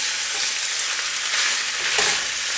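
Chicken browning with onions and jalapenos in a pan for tacos, a loud, close, continuous frying sizzle with a soft scrape of a spatula near the end.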